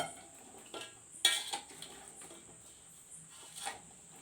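A spoon clinks and scrapes against a vessel while mango pickle is stirred together with its juice, producing a few sharp metallic knocks over quiet background mixing.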